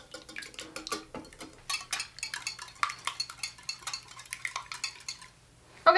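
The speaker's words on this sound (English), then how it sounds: "In the meantime, we'll whisk up the eggs." A whisk beats eggs in a bowl with a quick, uneven run of close metallic clinks and scrapes, loud at first and then continuing in brisk bursts.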